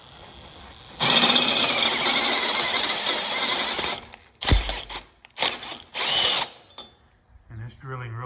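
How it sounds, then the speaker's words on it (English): Step drill enlarging a hole in soft metal on a mower or ATV for an LED light bar, a loud sustained whine for about three seconds followed by several short bursts and a thud, with a voice speaking briefly at the end. "I'm going to use my step drill"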